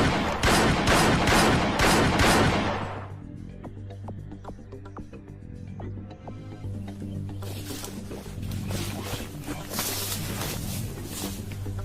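Rapid bursts of gunfire in an action movie scene, loud dense volleys at first, then a quieter stretch of scattered shots and clatter before the firing swells again.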